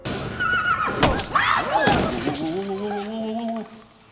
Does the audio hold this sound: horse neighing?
yes